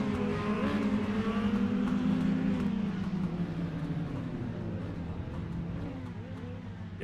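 Full Contact Ministock race cars in a sim racing game at Lanier Speedway drone and rev together in a dense engine chorus, steady at first and easing slightly, with no talk.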